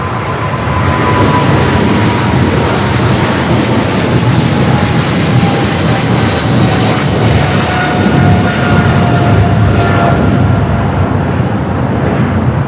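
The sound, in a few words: China Airlines Cargo Boeing 777 freighter taking off on runway 25 left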